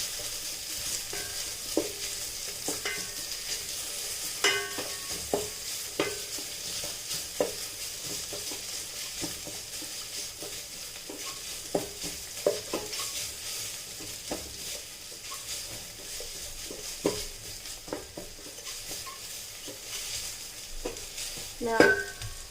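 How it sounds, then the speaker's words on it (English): Onions fried until translucent sizzle steadily in an electric cooker as ginger garlic paste is added and stirred in, with frequent scraping stir clicks over the constant frying hiss, no talking. "We can add in the ginger garlic paste and give it a quick mix"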